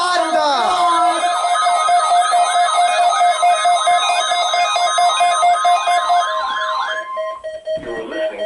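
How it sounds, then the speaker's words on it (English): A NOAA Weather Radio alarm test from a Pittsburgh station sounds as a loud electronic tone that warbles rhythmically over a steady pitch for about seven seconds, then cuts off before a brief voice. "The preceding tone signals were a test of the alarm device of this weather radio station."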